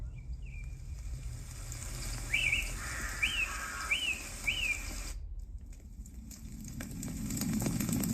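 Jungle ambience played from a white noise machine: a bed of chirping crickets under a few clear repeated bird calls, steady and moderately loud, before it cuts out and a low rumbling texture takes over.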